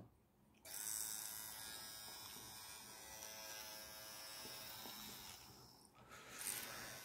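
A Chinese-made Dragonhawk tattoo machine buzzes with a steady high-pitched whine after a quiet start, briefly dipping and resuming near the end, close by.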